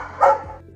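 A single sharp dog bark, close and loud, over a quiet background.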